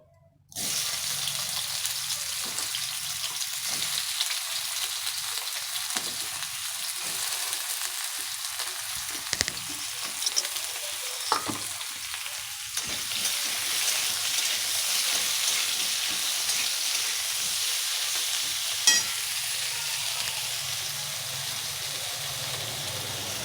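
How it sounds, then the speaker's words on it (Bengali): Green bananas frying in mustard oil in a kadai give a steady, close sizzle that runs almost unbroken, with a few sharp scrapes and knocks as they are stirred. "প্রথমে আমি কাঁচকলাগুলো ভেজে নিচ্ছি"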